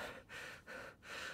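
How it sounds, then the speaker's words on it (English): A Genshin Impact character panting after fleeing hilly trolls: three quiet, breathy in-out gasps in a steady rhythm, close and alone. "Man, the dude is panting."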